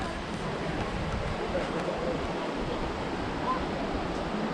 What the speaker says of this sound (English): I just love the sound of the river.